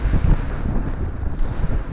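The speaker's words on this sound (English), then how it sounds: "Not too awful windy. I say 10 to 15 knots coming out of the northeast." Northeast wind of 10 to 15 knots on Lake Erie, heard from a fishing boat among 1 to 3 foot waves: a loud, constant, rumbling roar of wind buffeting the microphone, with no speech.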